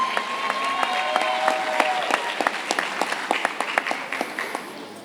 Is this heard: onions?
no